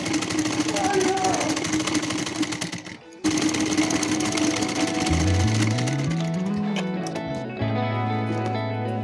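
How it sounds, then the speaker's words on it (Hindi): Sewing machine stitching folded fabric twice over for a small doll dress, a steady close whirring run with a brief pause near the middle, then a rising and settling motor tone as it speeds and slows. "इसको अच्छे से 2 बार स्टिच कर लेंगे"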